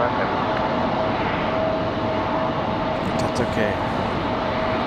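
Lufthansa 409 Heavy jet rolling for takeoff at Raleigh Durham airport on a windy day, a steady loud roar of engines with a faint tonal whine throughout, and a person briefly speaking nearby.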